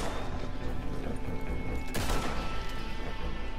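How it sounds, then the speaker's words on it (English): Gunfire in Red Dead Redemption, a steady wash of rattling shots and game noise with one sharp, loud blast standing out near the middle, continuous and fairly close. "are you shooting that random guy for no reason?"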